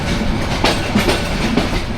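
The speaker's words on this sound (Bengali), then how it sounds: "এই ট্রেনের নামটা তিতুমির এক্সপ্রেস" Loud, steady rolling of the Titumir Express passenger train in Bangladesh, with repeated clickety-clack wheel beats over the rails heard close by, and no voices.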